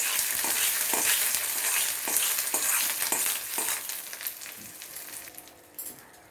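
Spluttered mustard seed tempering pours into onion chutney with a loud, close sizzle and crackle, followed by stirring scrapes as the frying noise gradually fades, with no voices.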